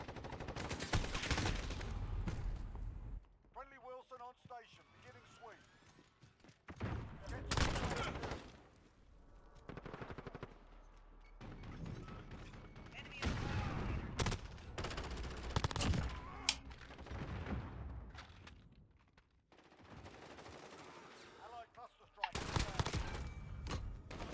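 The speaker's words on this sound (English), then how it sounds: "It's just a mounted machine gun, but immediately firing on us." Mounted machine gun in a video game fires in repeated loud bursts and fusillades, separated by pauses, while players talk over the gunfire.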